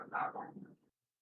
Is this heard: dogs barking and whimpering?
yes